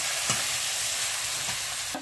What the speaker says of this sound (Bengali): এবার একসাথে মিশিয়ে ভালো করে কষিয়ে নিতে হবে।